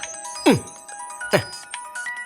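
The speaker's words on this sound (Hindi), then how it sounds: "मानिक राज का ही फोन है" A mobile phone ringtone plays indoors during a Hindi drama scene: two clear, loud melodic rings about a second apart, with no talking over them.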